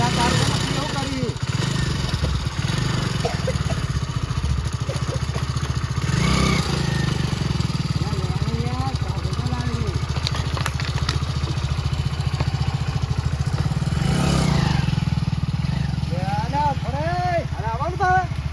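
A motorcycle engine runs steadily close by, with a few rising revs, under continuous casual conversation between several men.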